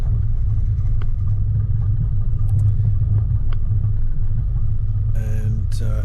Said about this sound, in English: trying to keep your throttle control nice and steady when the vehicle's bouncing over rocks